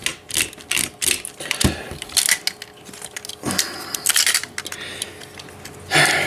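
A Beast Wars Optimus Primal reissue toy's lever is worked, producing a rapid, irregular run of plastic clicks and rattles, up close and fairly loud, with brief pauses between bursts.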